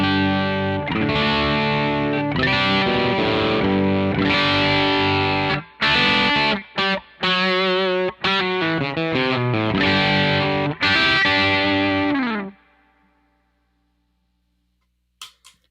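An electric guitar plays through an Analogman King of Tone overdrive pedal, with crunchy strummed chords and then choppy stabs and sliding notes before ringing out and falling silent, and a faint tick near the end.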